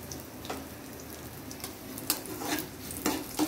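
Asafoetida drops into hot oil with dried red chillies for a coconut chutney tempering, a crackling sizzle with a few sharp stirring clinks against the pan in short bursts.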